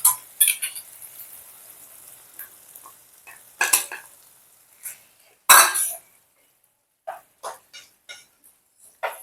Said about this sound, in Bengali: এই দইটাকেও ভালো করে ঢ্যাঁড়সের সঙ্গে মিশিয়ে নেব